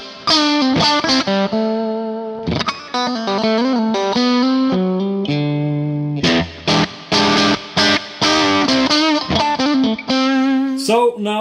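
Electric guitar through a Neunaber Immerse reverb pedal with tone at maximum, giving a bright, airy reverb: loud strummed chords and single-note runs ring out with a sparkling tail, played continuously and close with brief gaps between phrases.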